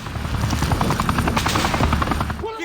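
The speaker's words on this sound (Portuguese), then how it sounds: "de repente helicópteros se aproximarem com soldados descendo por cordas" Black Hawk helicopters approach over Mogadishu, their rotors thudding in a loud, fast, steady chop that fills the air from start to finish.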